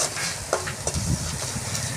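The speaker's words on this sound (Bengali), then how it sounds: "আর মশলাটা কষিয়ে নেব।" Turmeric, chilli powder and sugar sizzle and hiss steadily as they are stir-fried in a pan, with the scrape of stirring close by and no talking.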